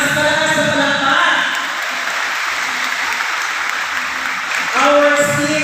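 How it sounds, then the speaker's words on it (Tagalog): Audience applause for a school president at a college ceremony, steady dense clapping throughout with a voice speaking over it at the start and end. "Palakpakan po natin ang ating school president."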